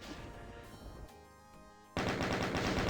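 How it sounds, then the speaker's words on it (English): A chain gun in DOOM fires at imps, with a rapid burst of shots that cuts off, then a sudden louder wall of sustained gunfire and explosions. "I think maybe the chain gun for the imps."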